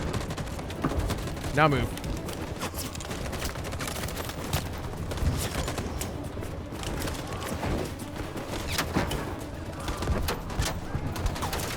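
Bursts of video game gunfire in a firefight, rapid volleys and single shots mixed with booms, loud and close, with a voice speaking over the shooting.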